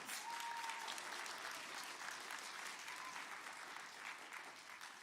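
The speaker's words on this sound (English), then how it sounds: "Give yourselves a round of applause." An audience at a 5th grade graduation ceremony applauds steadily for several seconds, dense clapping from many hands that gradually tapers off slightly toward the end.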